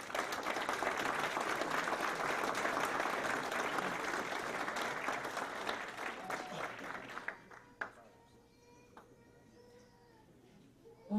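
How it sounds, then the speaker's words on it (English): A crowd at a Hall of Fame induction in Oneonta gives a sustained round of applause that thins out and fades after several seconds, leaving scattered claps and room noise. "can we have one last round of applause for our Hall of Famers?"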